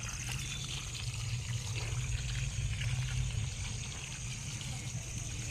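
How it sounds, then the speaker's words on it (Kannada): Water runs steadily while plants are being watered, a continuous close trickle and gush over a low background rumble, with faint voices now and then. "ಹಾಂ, ಇಲ್ಲಿ ನೀರು ಬರ್ತಿದ್ದಾವೆ"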